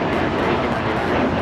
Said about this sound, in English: This is Breeze Airways Flight 123 taking off to Akron on the A220-300